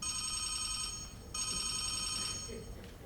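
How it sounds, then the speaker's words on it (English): A telephone bell rings in two long bursts with a brief gap between them, bright and steady over a quiet low background, then fades away at the end. "Phone rings."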